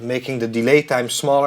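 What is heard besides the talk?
No everyday noise stands out behind the speech.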